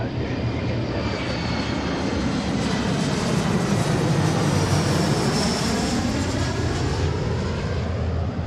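A Delta Boeing 737-800 lands on runway 34 left at Seattle, its jet engines a loud, steady roar that swells slightly, with no voices.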